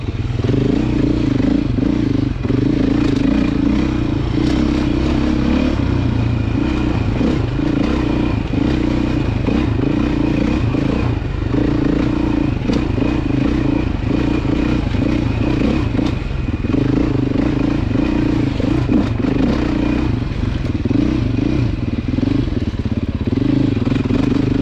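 A Beta dirt bike engine drones steadily in second gear at moderate revs, close and loud, with clattering and scraping from rough ground throughout.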